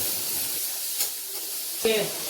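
Chopped tomato is added to onions frying in a pan, giving a brief close hiss of sizzling oil with a small burst of crackle as the pieces drop in near the end.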